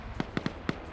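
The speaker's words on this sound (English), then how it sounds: "That was definitely a mine explosion" A landmine goes off in a military video game, heard as a quick cluster of four faint, dull popping blasts in under a second, distant and muffled.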